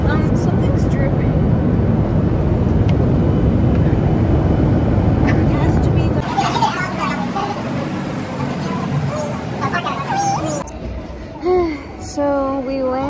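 Airliner cabin drone on a flight landing in Las Vegas, a loud, steady low rumble that dominates the first half, then gives way to quieter background as voices and brief sounds of people talking come in.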